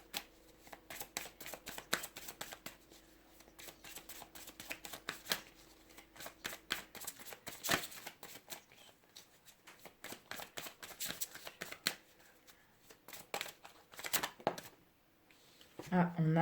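Tarot cards are shuffled by hand in a long run of quick, close riffling flicks, light and papery, with dense bursts and brief pauses, while someone talks.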